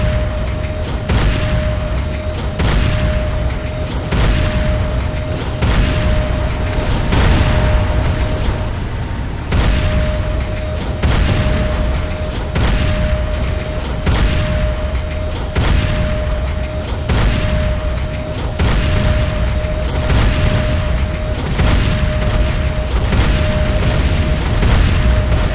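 Explosions from an attack on a Nod base in the video game Renegade, a steady barrage of loud booms and rumbling blasts repeating every second or so, with a faint steady tone running beneath.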